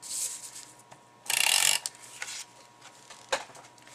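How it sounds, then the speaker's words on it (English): A Mega Tape Runner rolling 1/2 inch tape across a card, a short burst of close, rasping ratchet-like mechanism, with a few light clicks and paper rubs around it. "use the Mega Tape Runner. And I'm going to go all the way across. And this is the 1/2 inch"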